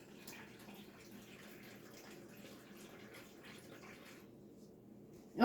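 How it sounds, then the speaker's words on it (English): Tap water runs steadily into a jug for a protein shake, a continuous soft rushing fill that stops abruptly near the end, followed by a brief loud knock. "This will take a minute for me to fill the jug"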